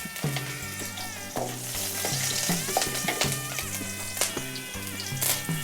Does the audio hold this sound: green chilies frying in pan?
yes